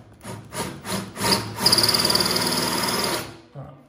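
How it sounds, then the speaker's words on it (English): A diamond drill bit starts into travertine: a few short grinding bursts, then a steady high-pitched grind for about a second and a half before it stops, close and loud. "if I just start that drill off here"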